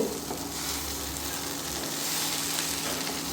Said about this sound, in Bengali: ভালো করে নাড়াচাড়া দে তলের দিকে নাহলে নিচে লেগে যাবো